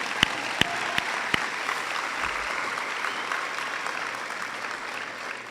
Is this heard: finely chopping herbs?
no